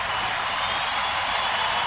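A baseball stadium crowd of more than 36,000 roars in a steady, dense wash of cheering and applause, loud and unbroken, with no distinct voices standing out.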